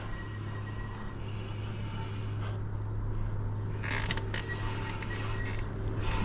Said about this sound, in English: I hope the brake noise isn't absolutely horrible in this video.